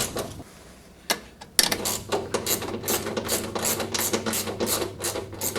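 An 8mm socket wrench turns a nut on a lawnmower belt drive down in a hole, giving quick repeated ratcheting clicks close up after a quieter start, with no voice.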